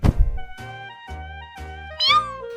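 A cat meows several times in quick succession, each call a short tonal cry, the last one rising higher and louder, close by and with no talking.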